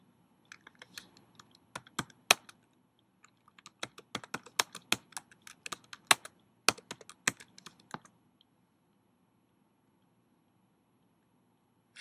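Keys on a computer keyboard clatter in quick, uneven bursts of close, crisp taps while text is entered for an interactive fiction game, then stop after about eight seconds.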